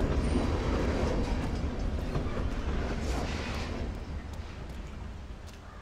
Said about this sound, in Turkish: Yine tren geçiyor.